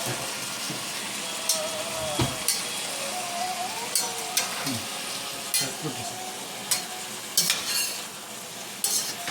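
Green beans, mushroom and tomato noodles frying in a pan are stirred with a utensil, giving repeated scraping clinks over a steady sizzle.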